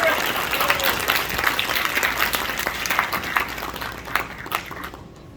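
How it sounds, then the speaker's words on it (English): Lively applause from an affordable housing symposium audience welcoming a guest speaker, close and busy with some sharp individual claps, dying away after about five seconds with faint voices mixed in. "Let's welcome with a round of applause to Frederick Griffer"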